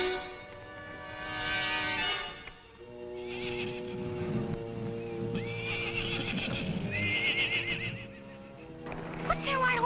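White horse neighing loudly in a 1950s western ranch scene, with long whinnies rising and falling and hooves clip-clopping under them, plus people talking.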